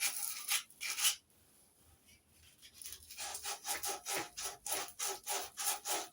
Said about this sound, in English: You're amazed at what you can actually move, material-wise, with sandpaper, as long as you know which direction to go in.